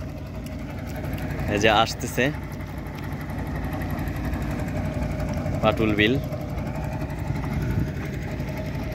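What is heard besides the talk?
motorboat engine on Patul beel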